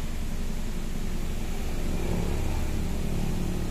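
The 2011 Hyundai Accent idles with a steady, even hum from engine and exhaust, continuous and fairly close, with no revving and no voices.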